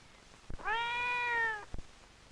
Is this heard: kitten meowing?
yes